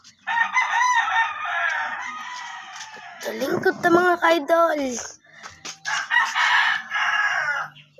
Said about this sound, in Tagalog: Mga manok guys.